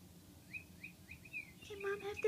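A pet bird chirps close by: four quick rising tweets in a row, then a brighter burst of short calls at the end, over faint room noise.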